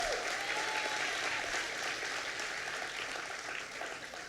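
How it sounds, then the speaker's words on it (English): Sustained audience applause fills a community center during a governor's announcement, a dense steady wash of clapping with a few whoops, fading slightly toward the end. "Stand up so people can give you a round of applause."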